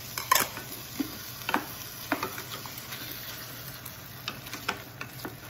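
A spoon stirs chicken and rice with mangoes and salsa in a hot pan, giving scattered scraping clacks and soft sizzle, close and fairly quiet with no talk.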